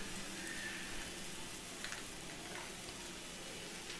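Finely chopped green chilies and crushed ginger sauté in a pan, giving a faint, steady sizzling hiss with no talking.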